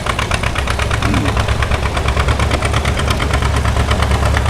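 A John Deere popping tractor engine runs steadily up close, its loud, even chugging pulses repeating rapidly over a deep low rumble for the whole stretch, with no voices over it.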